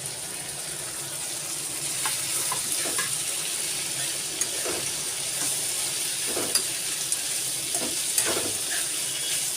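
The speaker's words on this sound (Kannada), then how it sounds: "ಈಗ ನಾನು ಹೆಚ್ಚಿಟ್ಟುಕೊಂಡಂತಹ ಬದನೆಕಾಯಿಯನ್ನು ಕೂಡ ಇದಕ್ಕೆ ಹಾಕ್ತಾಯಿದ್ದೀನಿ" Chopped brinjal goes into a frying pan and is stirred, giving a steady sizzle with scattered scraping and clicking strokes of the spatula, close and fairly loud, no talking.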